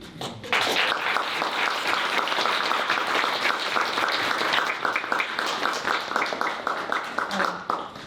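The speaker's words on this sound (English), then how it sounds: "Please give our accomplished alumni a round of applause" A large audience at an alumni panel applauding steadily, dense clapping that holds loud and even for several seconds, with a few voices mixed in.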